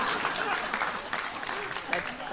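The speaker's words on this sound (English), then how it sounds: "That deserves the most applause" An audience at a law school convocation ceremony applauds, a steady wash of many hands clapping at moderate volume, heard from a little distance with a voice faintly present underneath.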